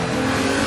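A Porsche engine at full throttle gives a brief, loud, steady roar that fills the moment without any voices.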